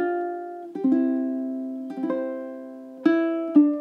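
Plucked fingerstyle ukulele playing a short phrase of The First Noel, measures 15-16, with clear ringing notes in a slow rhythm and a few distinct plucks, close and solo with no talking.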